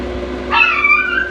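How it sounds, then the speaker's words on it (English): A dog gives a single short, high yip indoors beside a grow tent, one sharp bark over a steady low hum. "That's just my dog, excuse him guys."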